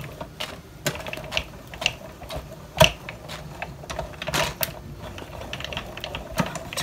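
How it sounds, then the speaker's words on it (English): A craft die-cutting machine with a cutting-plate sandwich is run through while making Art Deco panels for a small box, giving a busy run of dry clicks and mechanical ratcheting, with one sharper knock partway through and no talk. "and we'll run that through the die machine."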